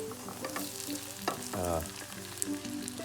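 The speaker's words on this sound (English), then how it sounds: "I'm going to let the egg white fry a bit before I introduce the yolk" Egg white frying in a pan with a steady, close sizzle, while low tonal hum and clatter pass underneath and a short crackling burst comes midway.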